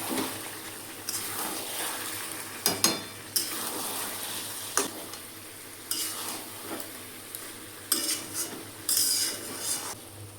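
Vegetables with turmeric powder stir-fry in a pan, a continuous sizzle broken by repeated scraping and clinking strokes of a metal spatula against the pan, fairly close and loud.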